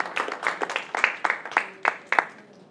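Congregation applauding during a church service, with a steady run of scattered handclaps swelling and fading at moderate volume and no voices on top.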